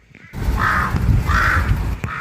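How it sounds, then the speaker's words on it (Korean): A mother crow in a Daejeon city street caws loudly while diving low at passers-by: two harsh, drawn-out caws and the start of a third, close and loud over street noise. "어미 까마귀가 우렁찬 울음소리와 함께 날아올라 저공비행하며 위협합니다"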